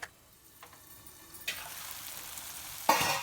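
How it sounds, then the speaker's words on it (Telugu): Masala spices frying in oil inside a covered pan, giving a soft steady sizzle with a few sharp clatters, including a louder knock near the end. "ఒక నిమిషం పాటు ఈ మసాలాలని కూడా ఆయిల్లో ఫ్రై అవనిద్దాము మూత పెట్టి"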